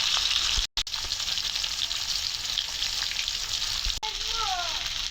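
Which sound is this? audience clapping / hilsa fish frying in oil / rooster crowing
hilsa fish frying in oil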